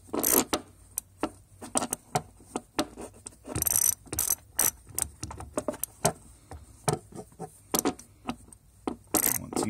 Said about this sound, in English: So we'll just ratchet this guy back down.